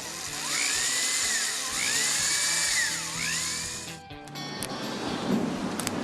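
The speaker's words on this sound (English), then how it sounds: "drill a couple of little holes for the handle," A power drill bores small rivet holes through the tang of a hand-forged camp knife, its steady whine swooping up and down in pitch for about four seconds before cutting off into light clatter and handling noise.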